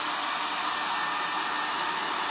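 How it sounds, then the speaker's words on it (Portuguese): A hair dryer blows on glue coated over a painted drawer, giving a steady, close, continuous airy roar that does not change and has no speech over it. "Vou secar com o secador."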